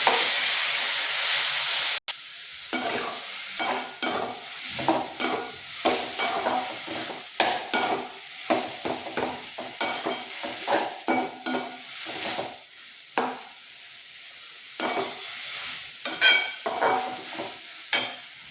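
Chopped tomatoes and onions are stirred and fried in a pan for a village-style onion chutney, with a steady sizzle and repeated scraping strokes of a spoon. The cooking is close and clear, and no one speaks.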